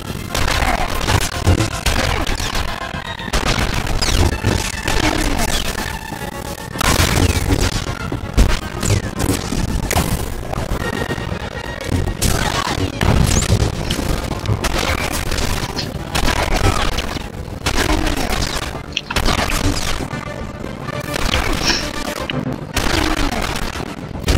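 Dense, continuous gunfire and booming explosions from a Star Wars: The Old Republic trooper battle, blaster-like shots and blasts piling up loud and nearly without pause across the whole stretch, with a voice briefly heard amid the combat.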